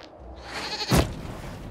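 A goat in a video game gives a single loud, close bleat near the middle, preceded by a quieter wavering tone and fading into background noise afterward, with no speech.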